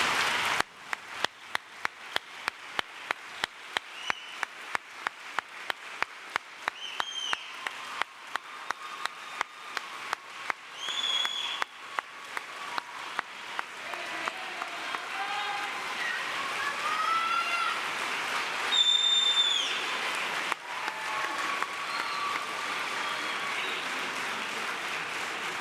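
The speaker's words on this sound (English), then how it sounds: "offering them our sincere thanks and appreciation with a warm round of applause" Audience applause at a university graduation ceremony, a dense steady clapping wash filling the hall from moderately near, with a few louder individual claps and faint tones over it.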